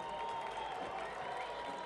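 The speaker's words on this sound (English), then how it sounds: "to the applause of the fans" Home fans at an El Paso Locomotive FC soccer match applauding a substituted player leaving the field, a dense, steady wash of clapping and crowd noise with a commentator talking over it.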